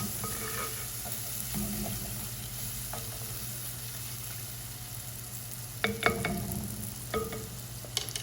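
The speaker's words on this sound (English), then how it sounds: "a little bit of sugar to caramelize the onions, get them all browned" Onions cook in a pan with salt and sugar, a quiet, low sizzle with a faint background hum and a few louder clinks and scrapes near the end, no talking.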